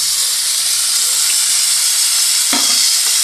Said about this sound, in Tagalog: Para maigisa na ito.